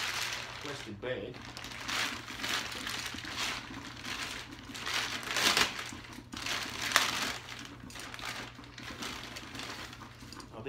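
A plastic bag crinkles and crumples in irregular bursts at close range while Eleiko calibrated change plates and collars are unboxed, with faint background sounds throughout.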